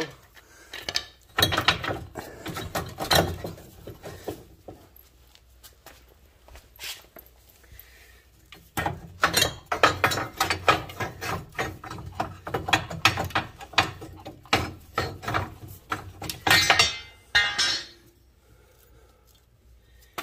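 A wrench works a bolt loose on the front end of a Chevy S10 during a drop-spring install: irregular bursts of ratcheting clicks and metallic clatter, close by, separated by quieter pauses.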